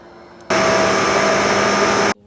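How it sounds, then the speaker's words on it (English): A normal vacuum cleaner, set against a FurMe grooming vacuum, switches on abruptly and runs as a loud, steady, close whooshing roar for about a second and a half before cutting off. "Just listen to the difference between FurMe and a normal vacuum."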